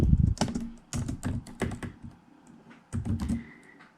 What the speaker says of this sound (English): you would just type your full legal name here, which maybe I'll just do a little bit of that now